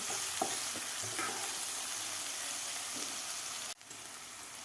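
Onion and ginger-garlic paste with a pinch of hing sizzle steadily in a pan for a broccoli bhaji, a continuous close frying hiss with a few light stirring scrapes, briefly dipping near the end.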